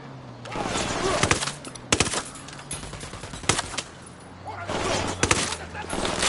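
Gunfire in the video game Ghost Recon Wildlands comes as loud clustered bursts of automatic shots, separated by brief pauses, with no talk.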